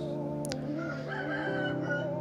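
A rooster crows somewhere in the background, a fairly faint drawn-out call blended into steady tonal game sounds.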